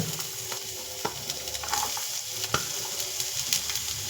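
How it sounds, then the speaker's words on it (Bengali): Carrot, cabbage and other vegetables frying in hot oil give a steady, moderate sizzle with soft stirring scrapes and small pops throughout, no voices. "এখন তেলটা গরম হয়ে গেছে, এবার সমস্ত সবজিগুলো দিয়ে দেবো"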